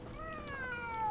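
A cat in the video game Hogwarts Legacy gives a single drawn-out, plaintive meow with a gently falling pitch, clear and close, with no talk over it.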